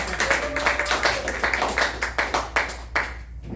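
An audience at a scene study class show claps steadily, a dense run of hand claps that thins and fades toward the end, fairly loud with no voices.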